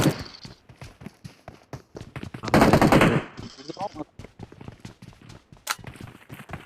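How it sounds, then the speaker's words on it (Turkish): Rapid automatic gunfire in a first-person shooter video game, bursts of sharp shots crackling in uneven rhythm, with one dense loud volley in the middle, while a player talks over it. "Oğlum biri bana sıkıyor ya."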